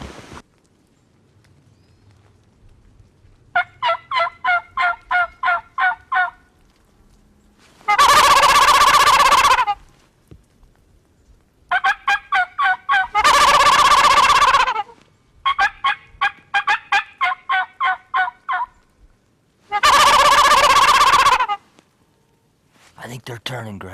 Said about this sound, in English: he has a couple of lonely and lovesick gobblers quickly approaching his setup